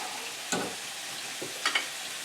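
Lamb frying in a pan, a soft, steady sizzle with a few quiet scrapes and clinks of stirring, no voices.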